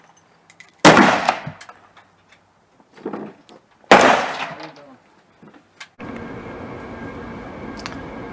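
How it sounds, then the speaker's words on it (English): Sharp gunshots from a Colt M4 carbine firing .223 handloads at an outdoor range: two or three loud, cracking reports spaced seconds apart, each with a brief tail, then steady wind-like noise. "Shooting them through my Colt M4 carbine."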